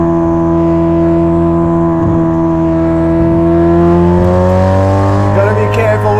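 A Ferrari 458 Speciale fitted with a Novitec exhaust accelerates on track, its engine note loud, close and sustained, climbing steadily in pitch with no break and a brief shift near the end.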